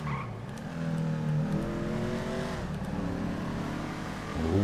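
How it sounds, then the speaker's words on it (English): A car engine in GTA 5 Online revs high and steady, its pitch climbing and dipping as it shifts through gears, echoing, loud and sustained with no talking. "Oh, just listen to that engine."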